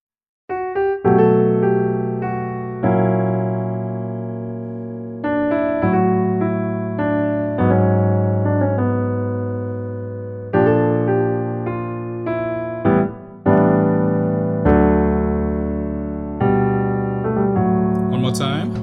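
Solo piano plays a song in a slow chordal arrangement, sustained chords changing every couple of seconds, close and clear with no talking.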